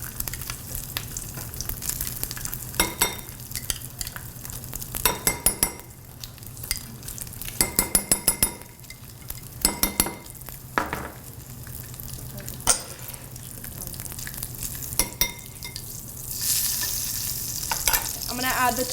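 A spoon scrapes and clinks in a bowl as softened cream cheese and mayonnaise are mixed, giving bursts of tapping and stirring that come and go, with quiet pauses between them.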